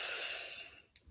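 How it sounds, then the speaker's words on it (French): A long, steady inhalation through the nose during a relaxation breathing exercise, a soft airy hiss that fades out and ends with a brief sharper sniff, close and quiet. "Inspirez par le nez"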